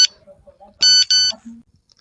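A phone's text message notification sounds as two loud, even electronic beeps in quick succession, near and clear, between quieter murmuring voices before and after.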